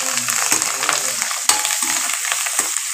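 Onions and coriander sautéing in a hot pan, a continuous close sizzle with stirring scrapes and a sharp clack from the utensil partway through.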